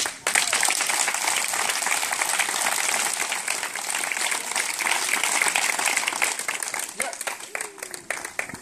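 A church congregation applauds loudly in dense, sustained clapping, with voices calling out over the steady applause.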